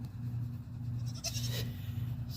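A goat bleats once, fairly near, against a steady low hum of background noise in a home farm setting.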